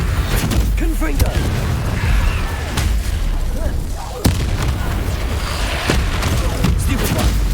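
A Confringo explosion spell cast in Hogwarts Legacy, with a sharp blast about four seconds in against a dense, continuous backdrop of rumbling combat noise and game sounds, while a voice shouts over it.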